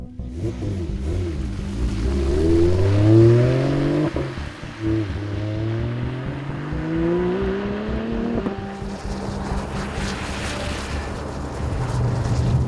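Volvo S60 Polestar saloon with a transversely mounted V6 of over 500 horsepower and a manual gearbox, roaring loudly as it accelerates hard, the engine note climbing through gear changes with a brief pause between pulls.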